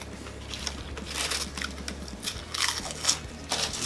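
Crunchy bites and chewing of salty chips come in close, irregular bursts over a low background hum, with several sharper crunches toward the end.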